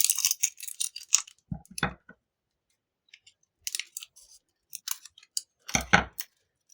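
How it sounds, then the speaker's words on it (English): Scissors cut open a small plastic Miniverse Lifestyle capsule ball filled with loose rock pieces, giving a few close sharp snips and clicks with quiet handling gaps between them. "So let's just cut one open and have a look."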